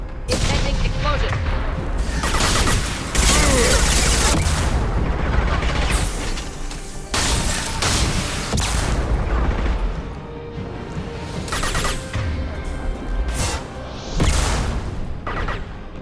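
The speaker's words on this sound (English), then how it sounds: "Impending explosion." Explosions and gunfire from the video game Mass Effect 2 come in loud, dense bursts, with heavy booms and crashing impacts repeating across the stretch and game voices mixed in.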